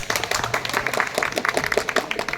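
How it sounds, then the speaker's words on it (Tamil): Audience applause, a short burst of many hands clapping at close range, dense and uneven, with no speech over it. "கைத்தட்டு இதுவரா"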